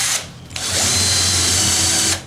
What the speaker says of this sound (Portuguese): essa rotação horário e anti-horário é para você poder fazer o furo com a rotação pro lado certo